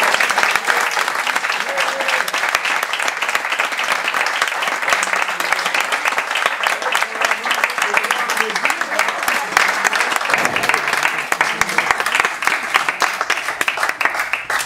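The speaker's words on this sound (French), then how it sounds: "Et voilà, on peut les applaudir hein, maintenant." Guests applaud newlyweds at a town hall wedding ceremony in France, a dense, steady round of clapping from a room full of people that carries on for the whole stretch, with a few voices faintly mixed in.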